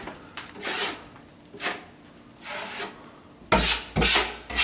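A trowel or float smooths setting joint compound on a wall in a drywall patch, giving broad rasping strokes in separate bursts with quiet gaps between. The last strokes come faster and louder.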